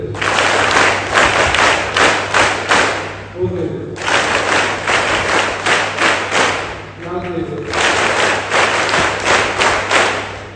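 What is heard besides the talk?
students clapping together in unison, counted rounds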